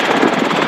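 Robinson R22 Beta II helicopter in flight during instructional training, a steady loud rotor and engine drone filling the whole moment close-up, with no voices.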